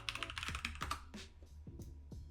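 Rapid computer keyboard typing and mouse clicking up close, a quick burst of keystrokes followed by sparser clicks, alone over a steady low hum.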